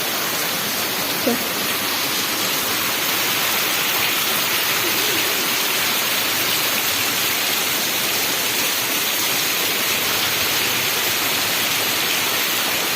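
Heavy rain pours steadily during a dark evening downpour, a dense, even hiss of falling water that fills the whole stretch without pause, loud and close, with no voices over it.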